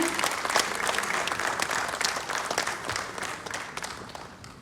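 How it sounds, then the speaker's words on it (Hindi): Hearty audience applause at an award ceremony, a dense burst of clapping that starts strong and gradually tapers off, heard from within the crowd. "आप सबके हाथ से जोरदार तालियां निकलनी चाहिए।"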